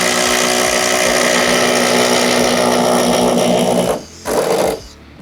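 A cordless impact driver runs continuously while held one-handed overhead, a loud steady buzzing hammer that cuts off briefly, restarts for a short burst, then stops.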